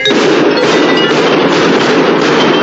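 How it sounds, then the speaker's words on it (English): Fireworks go off in a cellar during a film scene, a loud, dense, continuous crackling and hissing barrage with no talk over it. "My father makes fireworks in the cellar."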